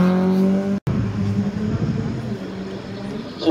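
A Peugeot 106 race car engine drones at a slalom race, a fairly loud sustained tone with a brief dropout, while a commentator talks over it.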